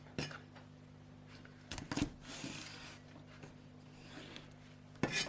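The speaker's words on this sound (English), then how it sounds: "Grab a handful of green beans and cut the ends off." A knife cutting the ends off a handful of green beans on a cutting board, with a few sharp taps and chops separated by quieter rubbing and handling sounds, close and fairly faint.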